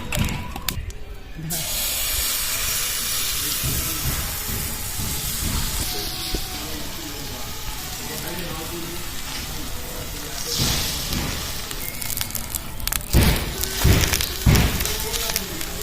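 Refined oil poured onto a hot griddle sizzles with a steady, dense hiss that runs throughout, close and fairly loud, with a few sharper crackles and bumps toward the end.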